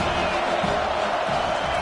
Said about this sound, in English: Big 3rd down as the crowd gets behind this defense.